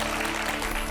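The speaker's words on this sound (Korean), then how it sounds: "박수로 맞아주세요" Studio audience applause greeting a guest on a Korean television lecture show, a steady dense wash of clapping throughout, loud and close with no talking.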